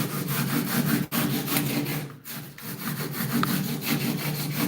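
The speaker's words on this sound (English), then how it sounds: "start cutting off the excess, and then slowly shape it over there" Foam being cut and shaped by hand for a DIY car body kit, with rhythmic back-and-forth rasping strokes, close and loud, brief pauses between passes, and no talking.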